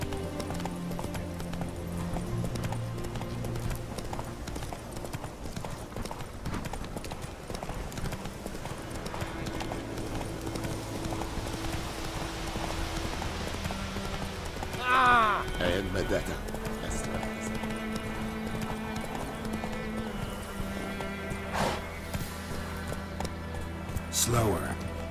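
Horse galloping in The Witcher 3 video game, with brisk rhythmic hoofbeats running steadily throughout, a brief whinny partway through, and game music layered underneath.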